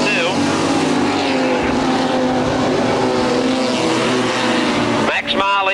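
Super sedan race cars roar around the Newcastle Motordrome in 1979, loud sustained engine howls rising and falling as they pass, with a commentator talking over the racing.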